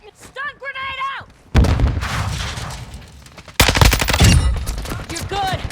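Stun grenade and gunfire in the video game Call of Duty Modern Warfare 2 during a Domination match, two heavy booming blasts with bursts of rapid shots, loud and close, with in-game radio voices talking at the start and end.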